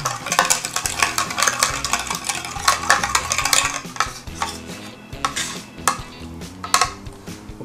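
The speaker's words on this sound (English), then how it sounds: "we're going to whisk that just a little bit" A whisk clinks rapidly against a container as salad dressing with dill is beaten in quick bursts, close and fairly loud, with no talking.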